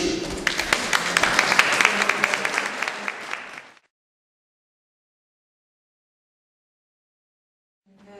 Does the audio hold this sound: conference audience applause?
yes